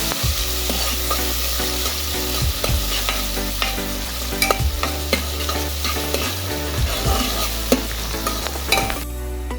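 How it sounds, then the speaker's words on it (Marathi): Onion frying in a pan gives a steady, close sizzle with repeated scraping and stirring clicks from a utensil, loud and continuous, with no voices. "आता कांदा छानपैकी फ्राय करून घेऊया."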